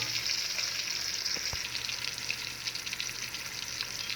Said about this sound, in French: So let's cook this onion for about 2 to 3 minutes.